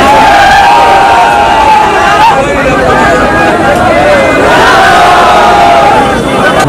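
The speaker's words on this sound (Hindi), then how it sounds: "जबकि भीड़ है वह अंदर पहुंच चुकी है।" A large, dense crowd of protesters shouts and cheers continuously at a rally in Hanumangarh, Rajasthan, a loud, sustained roar of many voices with raised calls rising above the babble throughout.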